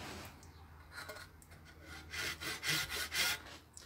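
A rip saw cuts through boxwood with a few soft strokes, then a run of louder, rhythmic rasping strokes, close by and alone.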